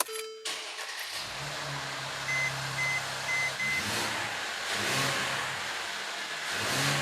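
A Mercedes engine cranks briefly and catches after a spark plug service, then settles into a steady idle with a few small revs rising over the hum, close and clear with no talk.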